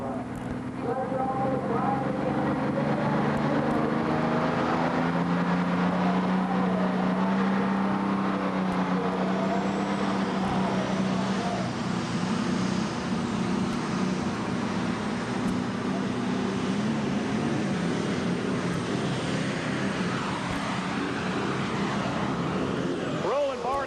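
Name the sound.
tractor pull engine roaring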